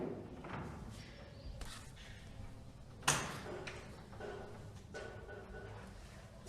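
A window is shut indoors with one sharp thud partway through, amid faint shuffling and quieter knocks, while people speak softly in the room.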